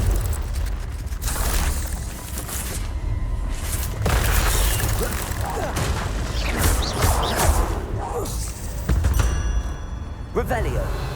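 Confringo blasting curse explosions in the video game Hogwarts Legacy: several booming magical blasts with crackling bursts recur across the stretch, loud and dense, with game effects and some voices mixed in.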